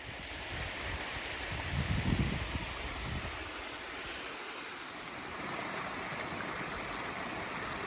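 Water rushes steadily from a small stream nearby, a constant broadband wash with some wind buffeting the microphone.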